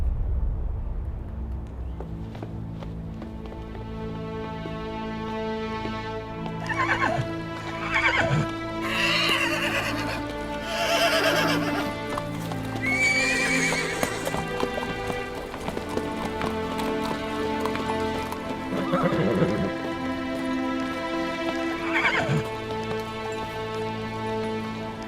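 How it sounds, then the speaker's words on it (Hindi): A mare neighs repeatedly and whinnies while hooves clip-clop, loud and close, layered with dramatic music throughout. "आपकी घोड़ी।"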